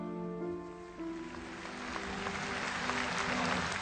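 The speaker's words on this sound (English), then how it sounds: "The applause, which erupted outside Westminster Abbey and quickly spread inside" Applause from a large crowd outside Westminster Abbey at Princess Diana's funeral, a dense, distant roll of clapping that swells gradually and holds steady, with sustained tones beneath it at the start.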